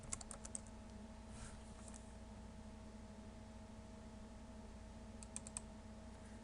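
Computer keyboard typing while entering VB.net code, a few faint brief bursts of key clicks at the start and near the end over a steady low hum, with no talking.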